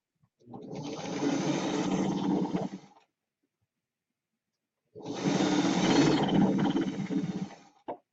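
Sewing machine chain piecing quilt seams: two sustained, fast runs of close, loud stitching of about two and a half seconds each, separated by a silent pause, ending with a short burst.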